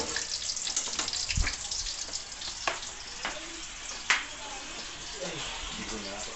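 Breakfast cooking in a home kitchen during a power outage: a steady sizzle of frying with running water and a few sharp clinks of utensils, with voices murmuring faintly underneath.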